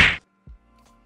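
A cheesy cartoon-style punch effect imitated by a single short voiced burst and a soft low thump after it, close and brief, then silence.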